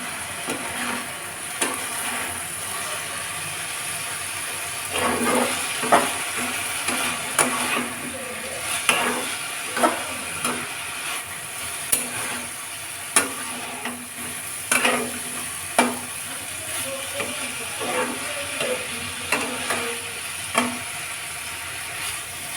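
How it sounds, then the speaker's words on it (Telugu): Sweet corn fries in a pan with a steady sizzle while a spatula stirs it in repeated scraping strokes at an even rhythm, close up. "ఇంకొంచెం వేగాలి."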